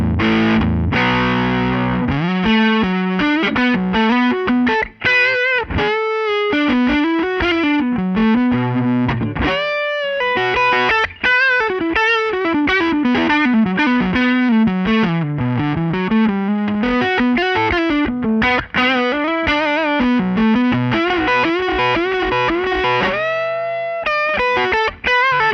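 Distorted electric guitar through a handwired Bad Cat Cub V amp plays a continuous melodic line with chewy overdrive and some modulation, loud and close, with brief gaps between phrases.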